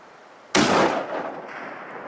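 A single sharp rifle shot cracks out at a bighorn sheep in the Idaho mountains, followed by a short, fading rumble of echo across open terrain.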